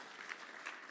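Audience applause with light cheering at a breakfast event, a steady dense patter of clapping filling the short moment at moderate loudness.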